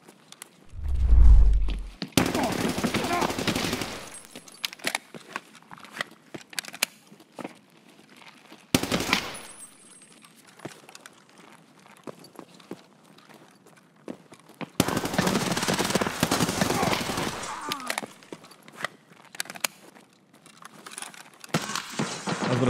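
G36 rifle gunfire in Escape From Tarkov: a heavy low boom at the start, then several sharp bursts of rapid automatic fire separated by quieter stretches with scattered clicks and movement.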